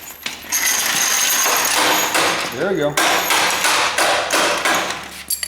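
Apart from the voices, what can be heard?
brass hammer striking car chassis part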